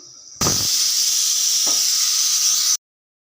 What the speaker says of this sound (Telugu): ఒక విజిల్ వచ్చిన వెంటనే ఆవిరి తీసేసుకోండి